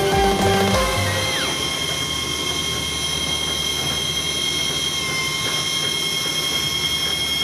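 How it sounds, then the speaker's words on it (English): Continuous close rumble and clatter of the El Chepe passenger train heard from the caboose, with sustained wheel squeal and steady rail noise throughout. "Get all the sounds and the movement that a train will have."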